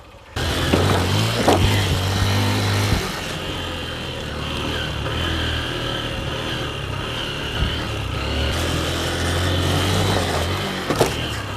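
A Honda XR 150 motorbike spins a donut with foot planted out and steering locked, its single-cylinder engine droning steadily at close range with brief revving surges and tyre scuffs, no talking.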